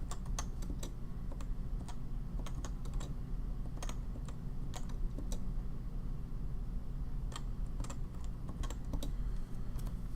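Someone types values on a computer keyboard in quick, uneven bursts of light clicks over a quiet background hum, and no one speaks.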